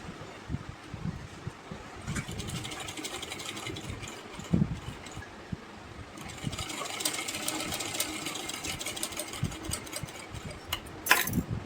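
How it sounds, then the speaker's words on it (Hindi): A sewing machine stitches along the neckline of a frock with a fast mechanical whirring that starts and stops in runs, quiet and close, with occasional clicks of the fabric being handled. "तो चलिए इस पर हम सिलाई को चला लेते हैं।"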